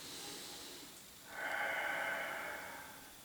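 A long, steady exhale during a Pilates exercise, a breathy airy rush that rises in the middle and fades slowly, close and quiet, with no speech.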